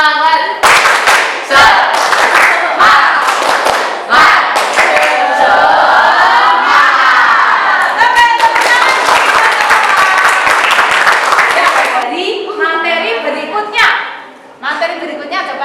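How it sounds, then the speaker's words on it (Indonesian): Classroom of students performing a 'tepuk semangat' spirit clap, loud rhythmic clapping in sharp patterned bursts with chanting voices joining in unison, then a brief pause before a few scattered final claps. "Tepuk semangat."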